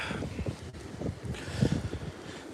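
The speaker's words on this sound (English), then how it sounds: "That's a good 35, 40 mile an hour gust going through there right now" Strong winter storm gusts of roughly 35 to 40 miles an hour with snow, a steady rough roar buffeting the microphone outdoors, sustained and fairly loud throughout, with no talking.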